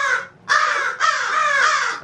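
Pet crows caw loudly and close by outdoors. Several harsh, drawn-out calls come in quick succession with a brief gap between them.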